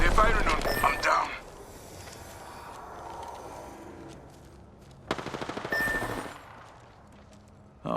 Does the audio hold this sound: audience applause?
no